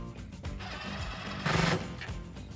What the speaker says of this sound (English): with your 13 millimeter socket,